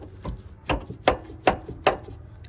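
Sharp hammer blows knocking a C-clip onto a shifter cable in a tight space on a Toyota MR2 SW20, five distinct metallic taps spaced about every half second, close and alone.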